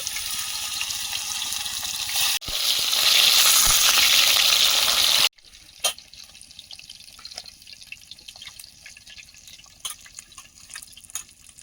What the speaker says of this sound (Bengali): পিসগুলো ভেজে নেব